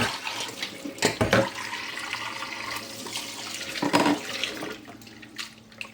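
Running tap water pours steadily over okra in a kitchen sink for several seconds, with a few louder splashes as the vegetables are rinsed, close by and without any voices.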